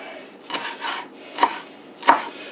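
A knife chops a bunch of fresh cilantro on a board, with four or five distinct close knocks spaced irregularly over a couple of seconds.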